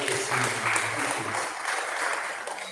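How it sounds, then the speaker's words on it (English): Crowd clapping at an independence celebration gathering, a sustained, even round of applause from many hands with faint background voices mixed in. "Give her a round of applause"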